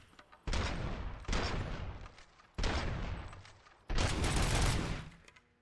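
Automatic weapon fire in the RoboCop: Rogue City video game; four loud sustained bursts of rapid gunfire, each about a second long and separated by short gaps, with the last burst the longest.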